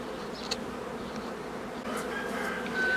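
Honey bees hum steadily at a Ukrainian apiary, a dense, close buzzing swarm that swells slightly louder toward the end, with no voices.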